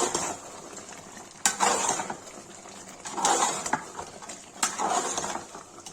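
A spoon stirs red chilli into mutton rogan josh in a metal cooking pot, producing three scraping, sizzling stirring passes separated by brief pauses, close and fairly loud.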